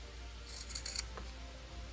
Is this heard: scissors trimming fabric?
yes